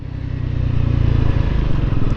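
A Triumph Scrambler 400X single-cylinder motorcycle engine revs up under load, loud and close, with a rough, throbbing growl that rises and holds steady for a couple of seconds, with no talk.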